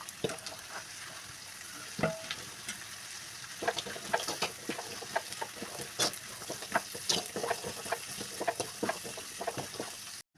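Cabbage and capsicum sautéing in a pan for egg noodles, a steady sizzle broken by frequent scraping, clattering stirs of a spatula, close and fairly loud, with no talking.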